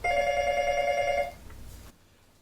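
A telephone bell rings in one clear, loud burst that cuts off, leaving faint room noise; a test call on a radio show line.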